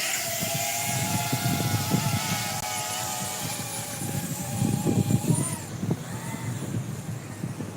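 A DJI Avata 2 FPV drone flies outdoors with a steady high whine whose pitch wavers and bends, over constant wind and rumble that swell slightly midway.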